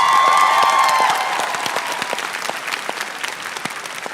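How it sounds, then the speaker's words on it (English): A convention panel audience breaks into a loud, dense round of applause that stays steady to the end, with some whoops and cheers mixed in. "Give him a round of applause. Let's give him a round of applause."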